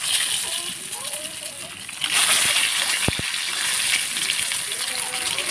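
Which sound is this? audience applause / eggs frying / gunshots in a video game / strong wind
eggs frying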